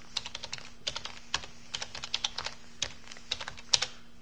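Steady typing on a computer keyboard while working in Visual Ruby, a run of quick, close keystroke clicks with uneven rhythm and a few louder strikes, no voices.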